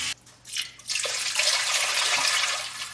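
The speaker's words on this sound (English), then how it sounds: "Okay, not quite enough water, so I'll add a little bit more." Water pours into a pot to cover a turkey, a steady splashing rush after a brief clatter at the start, continuing close and loud without talk.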